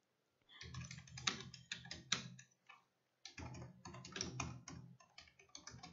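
Steady typing on a computer keyboard while an HTML tutorial is written, dense close key clicks in two bursts with a brief pause between, no talking.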